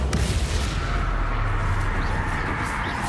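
A Confringo blasting spell going off in Hogwarts Legacy during a fight, a continuous roaring, crackling blast texture with a sharp onset at the start; loud and dense, with no clear talk over it.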